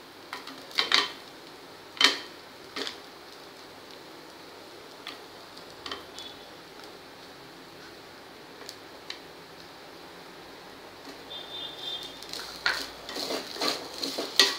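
A spoon stirs jaggery into coconut modak filling in a pan, with a few sharp metallic scrapes and clinks early on, then quieter scraping that builds again toward the end.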